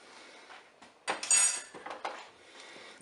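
Spoon scraping and clinking against a pot as three teaspoons of seasoning go into a light paella in a multicooker, a few short metallic taps and scrapes, close and fairly quiet, with no talking.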